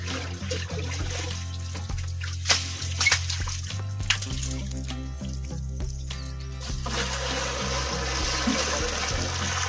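Water poured from two buckets into a drum, a steady splashing and gurgling flow with a low hum beneath, fairly quiet and continuous, swelling toward the end.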